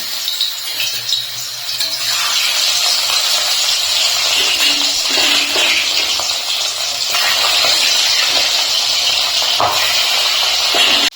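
Rohu fish pieces sliding into hot mustard oil in a wok, bursting into a loud, continuous spitting sizzle that stays strong and close throughout.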